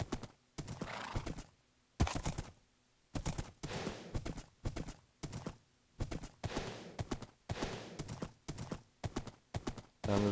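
Horse hooves clip-clop in Minecraft in repeated short bursts separated by brief gaps, with a whinny in the mix, loud and close with no talking.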